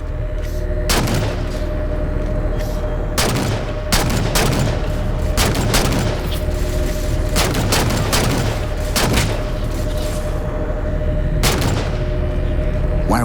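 Halo 4 gunfire crackles in repeated bursts of shots over a constant engine-like hum, loud and close, with short pauses between volleys.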